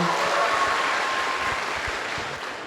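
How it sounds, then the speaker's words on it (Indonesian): University students at an Islamic youth gathering at UIN Alauddin Makassar applaud, a loud, dense round of clapping that slowly tapers off toward the end. "berikan tepuk tangan lagi dong buat Anda semua"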